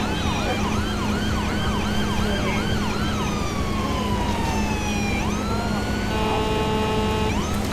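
An ambulance siren in the video game GTA 5 wails loudly and continuously, sweeping up and down in rapid cycles before shifting to a steadier tone, with no voices.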